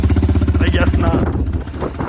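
A Honda 110 motorcycle engine idles close by with a fast, lumpy putter that wavers unevenly, and someone talks over it partway through.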